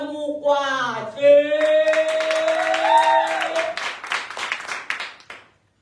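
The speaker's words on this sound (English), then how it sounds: "a round of applause for" Audience at a live poetry slam cheers with rising whoops and calls, followed by a burst of scattered, lively hand clapping that thins out and stops abruptly.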